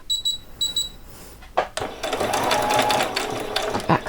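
A sewing machine stitches fabric while an old dress is upcycled, running in a steady close mechanical whir after a few faint beeps and a thump.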